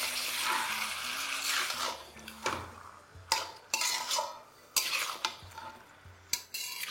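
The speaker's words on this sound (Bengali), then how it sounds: "তারপর একদম স্লো ফ্লেমে এটাকে ভালো করে মেশাতে থাকুন।" Chicken with salt being stirred in a pan over a very low flame, a utensil scraping and clinking against the metal in irregular strokes, close and alone with no voices.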